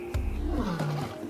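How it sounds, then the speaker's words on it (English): A lion lets out a single deep, rolling roar with a falling growl, close and loud against quiet surroundings. "Lions have the longest larynxes or voice boxes and are capable of the loudest roars."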